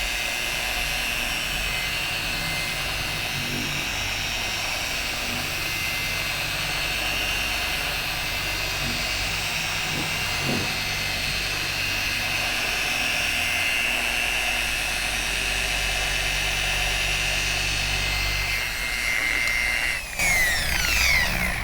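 A car polishing machine buffs scratches out of paint with a steady, loud, droning whine that runs unbroken for about twenty seconds, with a small shift in pitch near the end.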